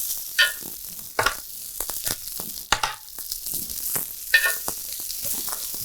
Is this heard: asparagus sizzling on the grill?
yes